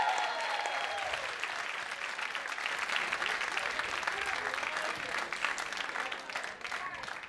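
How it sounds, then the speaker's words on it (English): An audience applauding three comedians at a New York comedy show, sustained clapping from a full room, fairly distant and even, with a faint voice over it at the start. "let's clap it up for all three comedians tonight"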